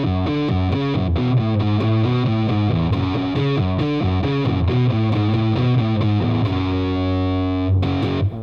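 A riff played cleanly and evenly on a distorted electric guitar, with tight repeated low chugs and a climbing note pattern, ending on a held ringing note that is briefly restruck.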